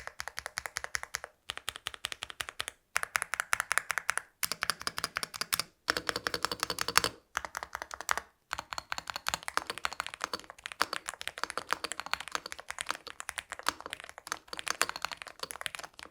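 Rapid, steady keystrokes on a high-end mechanical gaming keyboard, crisp clacks in bursts with brief pauses, close and alone with no talking.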